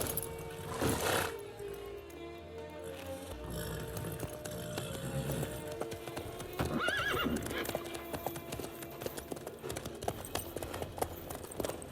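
Horse hooves clip-clop in The Witcher 3, a steady rhythmic trot on the ground with a whinny near the start, moderately loud amid game ambience and no talk.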